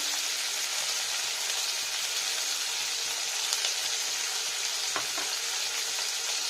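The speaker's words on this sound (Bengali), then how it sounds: "এটা একটু ফ্রাই করে নেবো" Boneless chicken seasoned with turmeric and salt frying in a pan, a dense continuous sizzle with faint stirring scrapes underneath.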